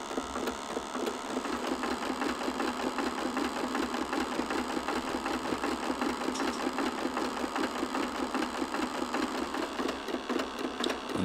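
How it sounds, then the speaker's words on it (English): An 1870s vacuum pump still running in Florence, chugging in a fast, steady mechanical rhythm with dense repeated clicks and knocks over a constant hum, loud and close. "that's the sound of the vacuum pump from the 1870s, still working in Florence"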